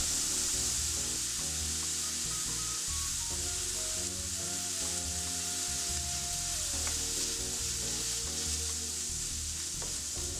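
Onions fry in a skillet for pumpkin pasta, making a steady, moderately quiet sizzle with light stirring scrapes throughout and no speech.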